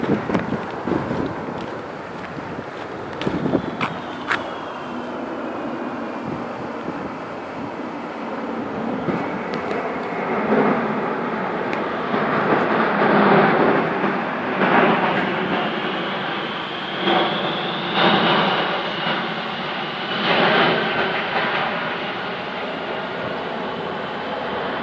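A C-5 military transport aircraft flies over Gympie, Queensland, with a broad, continuous roar. Its rushing engine noise swells and holds close overhead, with some wind buffeting on the microphone.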